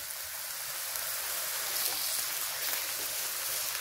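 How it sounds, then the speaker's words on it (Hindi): Potato pieces fry in a pan over high heat for a mixed vegetable dish, giving a steady, dense sizzle that stays even and close throughout. "तो चले पहले हम आलू को फ्राई करते हैं।"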